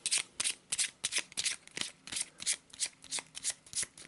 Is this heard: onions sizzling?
no